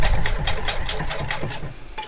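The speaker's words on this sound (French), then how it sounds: "je vais rajouter déjà un peu de lait chaud dans le mélange que j'ai blanchi. Et je vais fouetter directement" Hot milk is whisked by hand into blanched egg yolks and sugar for crème anglaise, a fast rhythmic series of scraping, clicking strokes of the whisk against the bowl, close and fairly loud.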